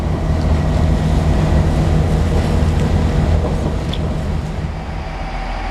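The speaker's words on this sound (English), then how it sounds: "That's it, that's our train away." A train departing from a station rumbles steadily nearby with a low, continuous roar, easing slightly toward the end as it pulls away.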